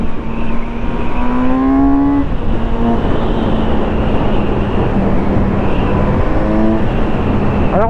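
A Kawasaki Z900 RS neo-retro motorcycle is ridden on the road, its engine note rising through several throttle pulls and gear changes over a constant wind rush.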